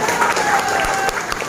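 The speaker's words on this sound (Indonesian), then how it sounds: "Tepuk tangan buat mereka semua" A crowd at an Islamic sermon by a preacher in Boalemo regency bursts into brief, dense applause, with voices mixed into the clapping.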